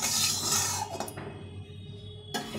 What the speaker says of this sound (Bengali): তেলটাকে একটু নাড়িয়ে নেব।